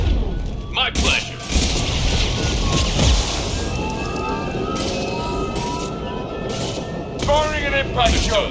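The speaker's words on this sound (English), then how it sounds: "Firing an impact shot!" Impact shots fire in the video game Mass Effect: heavy booming blasts and crashes come in bursts amid rumbling battle noise, loud and close, with voices talking between and over the shots.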